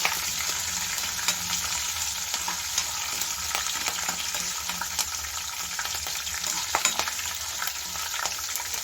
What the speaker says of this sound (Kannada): ಅದನ್ನು ಎಣ್ಣೆಯಲ್ಲಿ ಚೆನ್ನಾಗಿ ಫ್ರೈ ಮಾಡ್ಕೋಬೇಕಾಗುತ್ತೆ